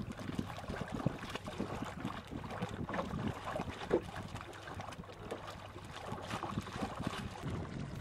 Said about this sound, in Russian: Но скоро протока расширилась и появился ветер.